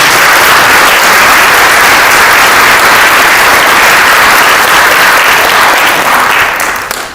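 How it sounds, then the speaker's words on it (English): A big round of applause from an audience at a spiritual book launch event, dense loud continuous clapping from many people that holds steady and starts to fade right at the end. "Let us give him a big round of applause"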